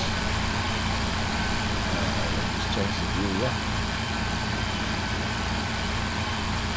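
An IMT 558 tractor engine runs steadily at a low idle throughout, a continuous rumble heard close by while someone speaks briefly over it.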